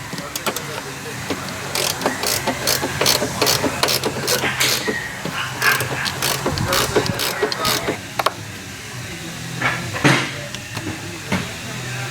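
A ratchet loosens 13mm strut top bolts on a 2011 Nissan Sentra, giving rapid clicking bursts up close, with scattered metallic knocks in a garage and some background noise.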